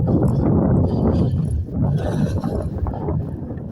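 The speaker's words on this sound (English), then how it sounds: "It's windy, sorry." Strong outdoor wind buffets the microphone during a morning walk, a loud, continuous low rumble that barely lets up throughout.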